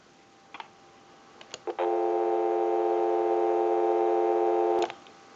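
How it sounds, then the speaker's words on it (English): Steady telephone dial tone from a Genie telephone conversion unit under test, preceded by a few sharp clicks, then holding loud and unbroken for about three seconds before cutting off abruptly. "We'll go ahead and give you some dial tone."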